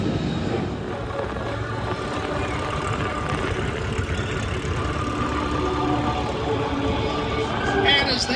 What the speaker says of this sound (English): you'll hear the roar of thunder from these lightning and the growl of that big radio engine from the Corsair